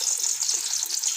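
Blended onion, garlic, ginger and tomato sizzle steadily in hot ghee, a continuous bright frying hiss with soft crackles throughout, close and fairly loud with no talking.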